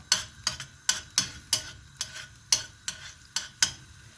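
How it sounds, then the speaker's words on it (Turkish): Crushed garlic roasting in oil in a pan: sharp, regular stirring clatters around ten times over a soft sizzle, close and fairly loud, with no voices. "bir diş sarımsağımı ilave ediyorum yağımızın içerisine. Biraz bunların kavrulmasını sağlıyorum."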